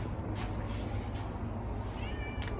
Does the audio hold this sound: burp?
no